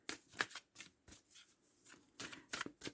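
Oracle cards shuffled by hand for a card reading, a quick run of soft, papery riffles and slaps close up, with short gaps between bursts and no talk.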